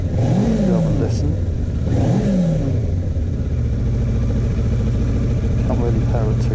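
A 2008 Kawasaki ER6f (Ninja 650) motorcycle with a fairing buzz or rattle fault, revved twice in quick blips that rise and fall over a steady, close idle.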